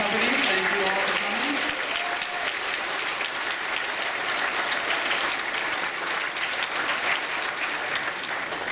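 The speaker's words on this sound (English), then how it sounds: "So let's get a big round of applause for our partner companies." A large banquet crowd at a gaming convention applauds steadily and loudly throughout, with a brief voice audible at the start.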